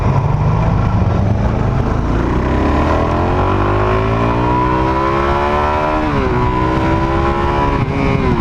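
A 2019 Suzuki DRZ400 SM motorcycle accelerating hard in second gear, its engine note climbing steadily in pitch with a brief dip near the end, loud and close with continuous wind rush and no talking.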